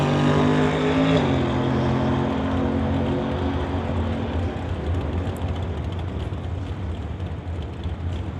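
At a drag-racing testing day, a junior dragster roars down the strip with a loud, sustained engine drone; its pitch drops abruptly early on, then the raspy roar continues steadily without speech.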